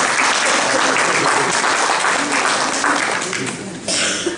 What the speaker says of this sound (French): Merci, on applaudit.